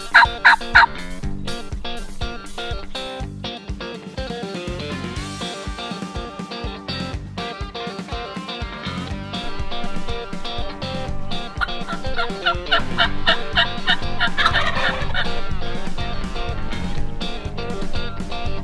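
A wild turkey gobbles repeatedly during a spring turkey hunt in Texas, loud rattling calls in bursts of several, ringing out near the hunters amid outdoor background.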